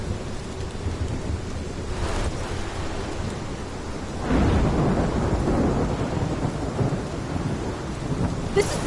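Heavy rain pours steadily in a horror video game thunderstorm while low thunder rumbles swell twice, the second roll louder and longer, with no one talking.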